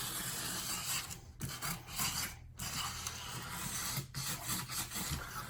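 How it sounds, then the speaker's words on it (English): Sandpaper scuffs smooth rubber on a tire for a TredWear Red Line installation, a continuous close rasping with brief pauses between strokes, heard alone. "the purpose of the sandpaper is to give the rubber that was previously very smooth a little bit of a roughness"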